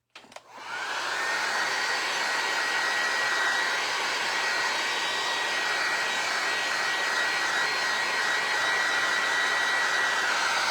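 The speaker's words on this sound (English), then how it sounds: "I always forget, you cannot get your heat gun too close." A heat gun blows a loud, steady hiss as it dries snow crystal paste on a vinyl record; the roar starts abruptly after a brief click and holds evenly, unbroken, with a faint whine riding on top.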